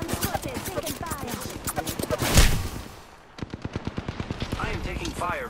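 Gunfire in Apex Legends, rapid evenly spaced automatic shots that run on steadily, with one louder blast near the middle and a brief lull before the firing resumes.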